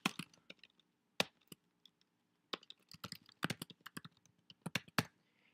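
Code being typed on a computer keyboard: quiet, close, irregular bursts of key clicks with short pauses between runs, no talking.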